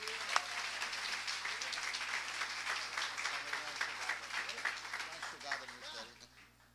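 A church congregation claps steadily and fairly quietly for several seconds, a dense even patter that thins out toward the end.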